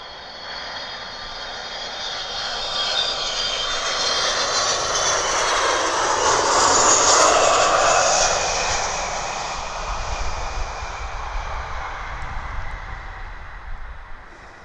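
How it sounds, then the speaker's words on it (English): A KC-135 tanker aircraft arriving at Mildenhall airbase, its engine roar swelling from a distant rumble to a loud broad peak midway, then slowly fading, with no talk. "just coming in, just in the nick of time, we have this KC-135 just arriving"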